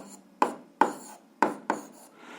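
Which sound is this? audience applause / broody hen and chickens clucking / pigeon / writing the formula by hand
writing the formula by hand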